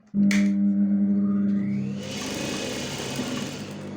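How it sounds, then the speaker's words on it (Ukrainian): A sewing machine stitches a decorative seam on fabric, starting abruptly with a loud, steady motor whir and rapid needle clatter that settles into a continuous hum. "прокладаємо строчку до наміченої лінії"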